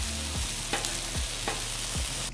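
A patty sizzling loudly on a hot grill just after being flipped, a dense continuous hiss with a few soft scraping touches, close and alone without talk.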